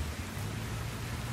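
Steady rain patters onto forest leaves on a summer day, a dense, even hiss that stays constant and close, with no voices.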